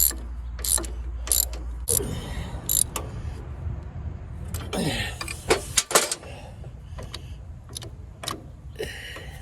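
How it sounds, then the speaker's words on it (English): A 19/32 wrench ratchets while tightening a nut with a lock washer, giving bursts of sharp clicking at close range with pauses and faint handling noises between them. "19/32 wrench, or for my Australian friends, spanner."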